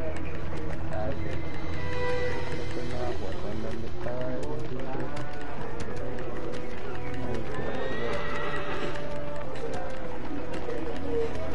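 A horse gallops and neighs in the video game Shadow of the Colossus, with rapid hoofbeats and whinnies running under excited talk and game sounds throughout.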